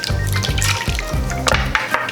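Water is poured into a cooking pot of birria de res beef sauce with a steady liquid gurgle and slosh. Low bubbling pulses repeat about every half second, close and fairly loud, with no talk.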